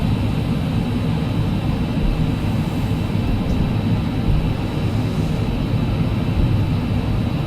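An FSLabs A320's engines wind back to idle in Prepar3D, a steady, loud broadband roar and whine that holds evenly throughout with no voices.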